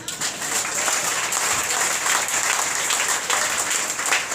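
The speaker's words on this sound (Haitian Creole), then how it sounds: "on applaudit Jésus pour ça." Church congregation applauding together, a steady dense roar of clapping with some crowd noise, sustained and even in loudness throughout.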